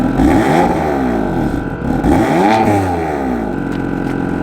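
A BMW M4 engine revs hard twice, pitch sweeping up and falling back each time, loud and close, then settles into a steady idle.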